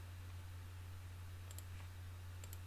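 Two quick key clicks pressed on a computer keyboard during video editing, faint and close over a steady low electrical hum, no voices.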